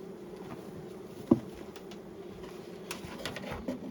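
Honey bees hum steadily around a hive outdoors, a low continuous buzz at moderate level with a brief knock partway through and faint higher buzzes drifting past.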